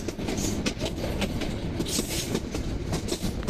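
The Lalmoni Express from Lalmonirhat to Bogura rumbles along at speed, wheels clattering in a dense, continuous roar with faint rhythmic clacks and no speech.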